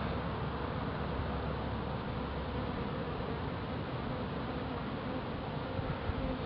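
A dense, steady hum of many honeybees buzzing close by in a top bar hive, continuous and loud throughout with no talking.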